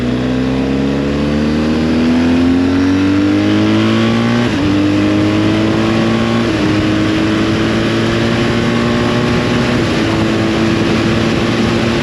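A BMW R1250 GS motorcycle accelerates hard through the gears, its engine note climbing steadily, dropping at each shift and climbing again, loud and close with wind rush throughout and no voices.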